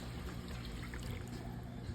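Water poured into a pot for cooking pancit makes a steady, soft trickling and splashing that continues evenly throughout, fairly quiet and close, with no talking.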